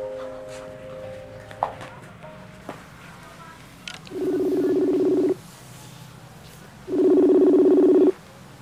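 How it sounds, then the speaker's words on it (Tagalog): Touch-tone phone dialing a number at home: two long, loud steady dual tones in close succession, with faint background noise and small knocks before them. "Tatawagan ko na lang po si Kuya."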